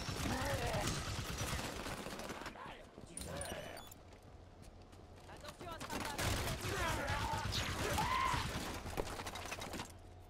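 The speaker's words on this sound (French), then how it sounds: "Je tire." Gunfire from the video game Halo 5: Guardians crackles in irregular bursts beneath continuous French-speaking commentary, mixed with game effects and music.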